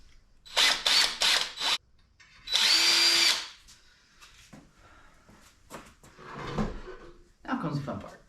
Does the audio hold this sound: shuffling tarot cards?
no